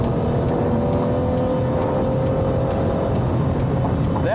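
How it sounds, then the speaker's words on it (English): A 2017 Ford Mustang with the 3.7-liter V6 accelerates from inside the cabin, a steady engine drone with a rising tone near the end, and no voices. "I am impressed with how well this little car accelerates."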